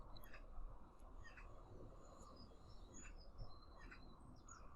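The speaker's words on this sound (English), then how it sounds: "listen to the bird chatter around here." Birds chatter and sing around a campsite, a steady scatter of small chirps and short calls over a constant low outdoor rumble, moderately distant and never loud.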